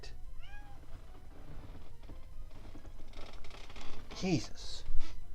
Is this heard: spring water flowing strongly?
no